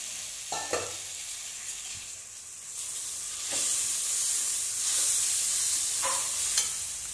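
Yard long beans frying in a pan with chilli powder and turmeric, stirred again and again: steady close sizzling hiss with soft scraping stirs at intervals, no talk.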